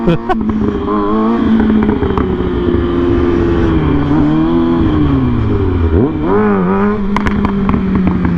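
A 600cc sport motorcycle engine revs steadily while the bike is held up in a wheelie, a loud, close, continuous drone that holds, dips and swells with the throttle and then climbs back.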